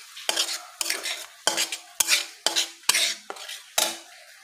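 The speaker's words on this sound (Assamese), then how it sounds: "এতিয়া অকণমান লৰাই ল'ব লাগিব।" A spoon stirs fried spices with a paste of ground cashew and melon seeds in a pan for a rohu fish curry with pineapple, giving seven sharp scraping strokes at a steady rhythm, close and clear, with no talk.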